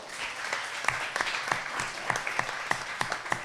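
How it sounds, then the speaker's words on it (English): Audience applause at a live grand finale event for a pie-making competition, a steady wash of many hands clapping with sharper individual claps standing out, moderately loud and without talk. "Ladies and gentlemen, a big round of applause for Kat Carroll."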